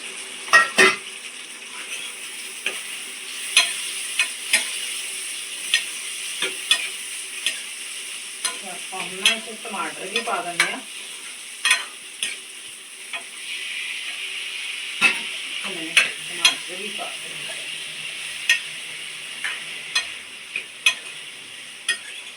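Onions frying in a pan with a soft continuous sizzle, punctuated by scraping and clinking of a spatula stirring at irregular intervals.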